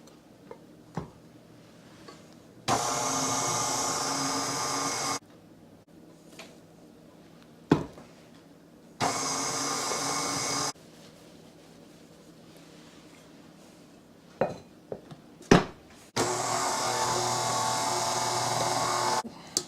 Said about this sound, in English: we are going to add them a spoonful at a time and just slowly mix it